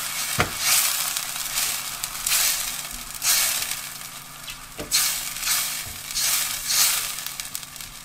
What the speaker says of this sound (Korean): 자글자글 끓을 때까지 저어주세요